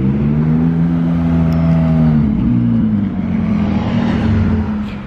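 A McLaren 675 LT Spider sports car rolling past on a Monaco street, a loud, steady engine drone with a brief shift in pitch midway, close by and fading slightly at the end.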